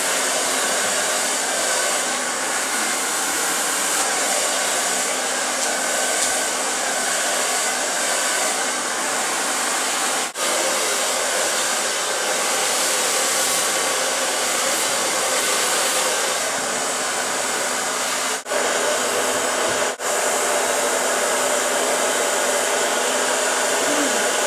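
A hair dryer blows steadily while styling hair salon-style, a loud continuous close whoosh with only slight dips in level and no talking.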